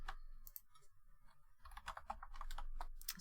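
Fingers tap quickly on a computer keyboard, producing close, crisp clicking keystrokes in irregular bursts with no voices.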